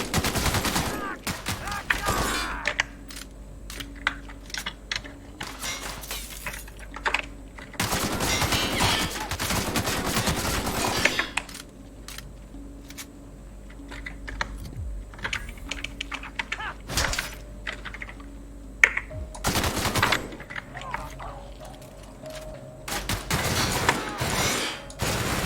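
Gunfire in the video game The Outer Worlds, with repeated rapid bursts and single shots spread through the clip over a steady background hum, mixed with clicking.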